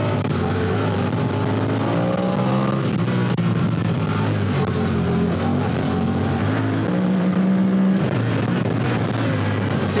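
A Honda Talon 1000X side-by-side drives through Zion Canyon wilderness in Utah, its engine droning loudly and continuously with pitch climbing and dropping as it shifts through gears.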